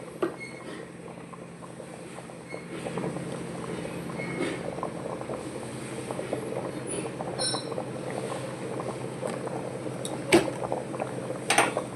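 Boiled rice with a little white oil is stirred in a cooking pot, giving soft wet mixing sounds with occasional clinks of a utensil against the pot.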